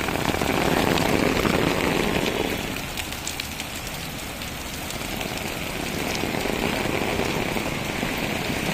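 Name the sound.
steady rain falling in Dhaka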